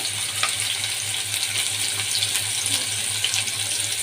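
Onion frying in hot oil, a steady loud crackling sizzle that runs on its own throughout, with no voices.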